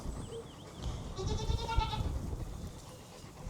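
Goats on a farm bleat a few times at close to moderate distance, short wavering calls over light background rustle, with no talking.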